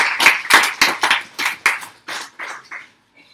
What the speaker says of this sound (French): Applaudissez Jésus-Christ le roi des rois.